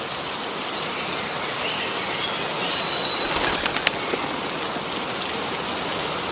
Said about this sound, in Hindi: तभी जोरों से बारिश आने लगती है।